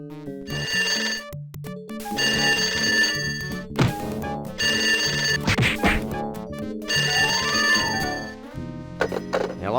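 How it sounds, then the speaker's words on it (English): Office telephone in the Sam & Max video game rings in repeated bursts of bright bell tones over a brassy, bouncy music score, with thumps and crashes between rings near the end. "when the phone rings in the office"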